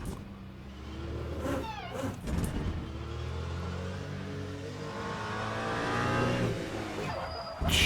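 Race car engine in the Le Mans Ultimate racing game, hypercar class, roaring loud and close, its pitch climbing and falling through gear changes, with a brief skid-like burst early and a steady high-revving drone for the rest.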